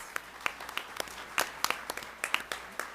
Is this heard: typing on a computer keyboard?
no